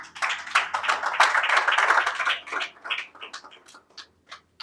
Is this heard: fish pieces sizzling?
no